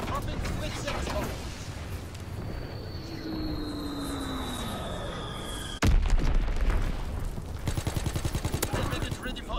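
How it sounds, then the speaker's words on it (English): In a WW2 video game, a Blitzex bomb drops with a descending whistle over droning aircraft, then a sudden loud explosion is followed by rapid bursts of gunfire and rumbling battle noise. "Dropping Blitzex bomb."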